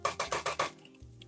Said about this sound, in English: and we whisk it.